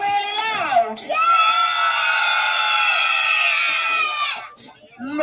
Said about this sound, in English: Can you all scream really loud?